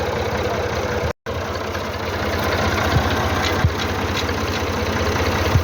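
A big tractor engine idles at night during the wheat harvest, giving a steady, close, low mechanical rumble with an even throb that cuts out for a moment near the start and then continues unchanged.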